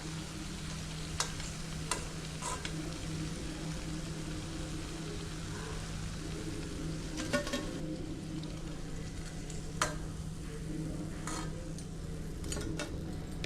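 Urad dal medu vada fritters fry in hot oil with a continuous soft, low sizzle and a few faint utensil clicks, and nobody talks.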